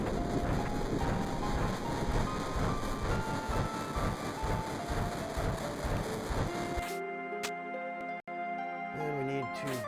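A moving train in Final Fantasy VII, a steady rhythmic clatter of rails under a looping melodic game score, then the rumble cuts out, leaving the music alone.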